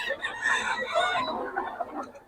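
Fighting-cock roosters for sale at a Bocaue market give a close, fairly faint burst of clucking and a short crowing call lasting about two seconds, with faint voices under the birds.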